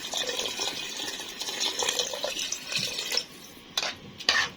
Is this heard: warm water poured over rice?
yes